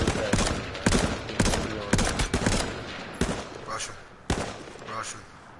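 Rapid bursts of video game gunfire crack out in quick repeated volleys during an online shooter match on PS4, loud and close over scattered player chatter.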